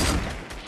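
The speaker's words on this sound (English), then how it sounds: "He's shooting him. He's shooting him." Rapid video game gunfire forms a dense, loud burst of shooting that fills the whole short moment, with no talk over it.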